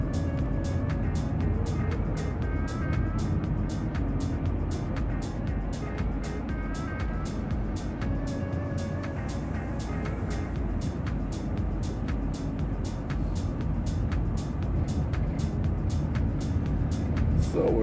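A car driving around Bagram base in Afghanistan, heard from inside as a steady engine and road rumble with a regular rapid ticking, continuous and fairly loud, no talking.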